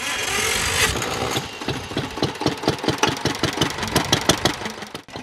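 A small imported Madinusa engine runs at a tractor festival with a loud, rapid, even chugging rhythm close by, the firing pulses steady for several seconds before cutting off at the end.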